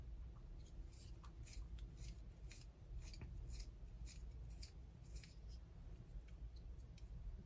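Small pencil sharpener grinding an eyeliner pencil, a steady close scraping rasp with repeated short twisting strokes throughout, no talking.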